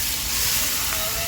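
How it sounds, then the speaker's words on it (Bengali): Chicken meat sizzles in hot oil for a chicken curry, with a steady broadband hiss of frying and faint stirring, heard close and without talk. "এখন এই যে মাংস দিয়ে দেওয়া হবে এই এখানে তেলের মধ্যে ছেড়ে দেওয়া হবে"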